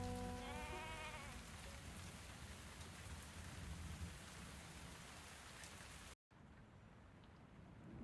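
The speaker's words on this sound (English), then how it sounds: "Ooh, it's raining." Steady rain pours in the Tavern Talk video game, a dense, even wash of drops that holds loud for about six seconds, cuts out briefly, then returns quieter and thinner.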